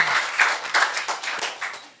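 Loud, continuous clapping from a church congregation at a Sunday service, many hands patting in rough unison with regular rhythmic surges that fade slightly toward the end.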